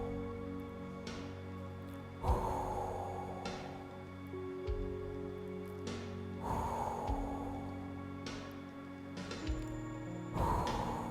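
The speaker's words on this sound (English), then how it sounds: "you're breathing in, you breathe out." Slow, deliberate breaths for a Qigong spleen healing exercise, several audible inhales and long exhales repeating every few seconds, close and quiet over a faint steady background hum.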